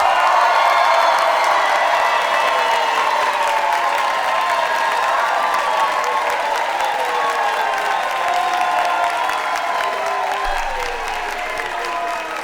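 Comedy-show audience clapping continuously, a dense, loud wash of applause with scattered cheers that holds steady for the whole stretch before easing slightly near the end.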